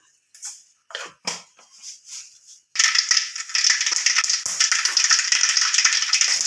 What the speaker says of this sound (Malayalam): അപ്പോൾ നമ്മുടെ വെളിച്ചെണ്ണ ഒന്ന് ചൂടായി വന്നിട്ടുണ്ട് നമുക്ക് കടുക് കൊടുക്കാം